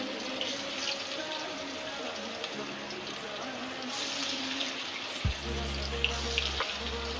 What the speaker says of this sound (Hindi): जो है ना ये फिंगर फिश डाल रही हूँ, बिस्मिल्लाहिर्रहमानिर्रहीम, और इंशाल्लाह ताला ये भी बेहतरीन फ्राई होगी।